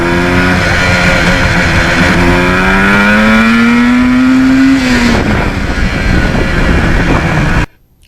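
Yamaha RD400 two-stroke motorcycle on a cold-weather ride, engine note climbing through gears with rising pitch, a shift near the midpoint, then steady loud running before cutting off abruptly at the end.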